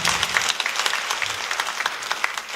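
Church congregation applauding at a Sunday service, a steady crackle of many hands clapping close in, with no voices over it.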